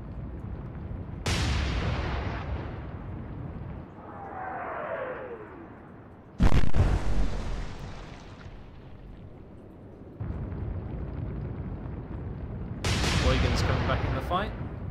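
Heavy naval guns fire in a video game, several booming salvos spaced a few seconds apart, each a sharp loud blast trailing into rumbling decay, with a whistling shell sweep between shots.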